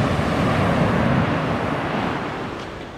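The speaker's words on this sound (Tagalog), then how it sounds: "Napakalakas ng alon." Strong ocean surf crashes steadily at a beach in La Paz, San Narciso, Zambales, a loud, continuous roar of breaking waves with wind buffeting the microphone.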